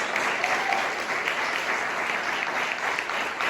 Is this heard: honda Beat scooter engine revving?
no